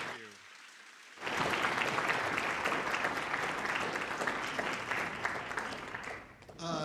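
Applause at a state arts awards event for a performing vocal duo: after a brief quiet voiced lead-in, a large audience bursts into sustained, full clapping that holds for several seconds before tapering off.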